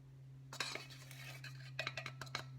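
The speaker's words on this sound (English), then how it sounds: "This is baking soda, so we're going to use 2 teaspoons of this." Metal teaspoon clinking and scraping against a container while baking soda is measured for a gluten-free vegan chocolate cake, a quick cluster of light taps followed by several more close clinks over a steady background hum.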